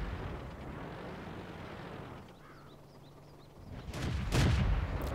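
Tank cannon fire in the World of Tanks video game, with a low rumbling blast early on, a quieter lull, and then a sharp, loud shot followed by a second booming report near the end.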